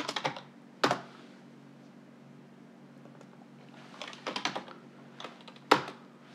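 Typing on a computer keyboard, with short clusters of clicky keystrokes and a few sharper single presses, close and fairly quiet over a faint steady hum.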